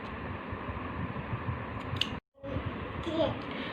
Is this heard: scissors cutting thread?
yes